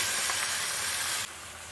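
Mutton hitting a hot pan and sizzling: a loud, bright, steady hiss that runs for over a second, then drops abruptly to a softer continuing sizzle. No voices.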